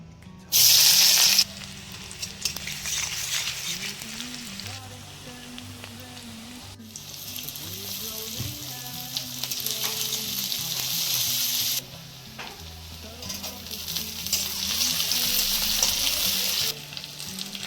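Oil and chopped taro frying in a wok, a loud crackling sizzle that flares in sharp bursts and then settles into a steady hiss, close by with stirring and no talking.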